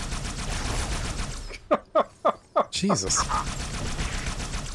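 Four sharp, evenly spaced gunshots in the Halo 2 video game, close and loud, followed by a burst of impact noise, with a person talking around them.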